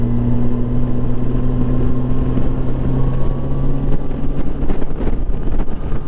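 A 2007 Yamaha FJR 1300 sport-touring motorcycle cruises in fourth gear on the road: a steady, loud engine drone under continuous wind rush, with a few brief sharper bursts near the end.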